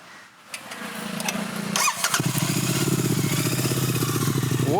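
A Royal Enfield GT 650 parallel twin with an aftermarket exhaust cranks and fires up, then settles into a steady, rapid, throbbing idle heard up close, loud and alone.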